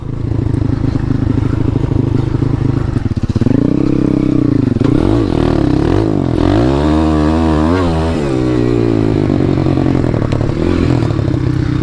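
A Jawa KTM motorcycle with a YX 140 engine runs close by, its buzzy two-wheeler note holding at idle, then revving and dipping in pitch several times before settling into a steady drone.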